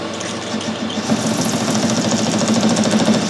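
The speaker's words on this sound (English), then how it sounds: "Happens with aluminium, it tries to stick onto the end of the tool like that." A milling machine cuts aluminium with a loud, continuous, rapidly chattering and grinding tone, running close by without a break, and no talk over it.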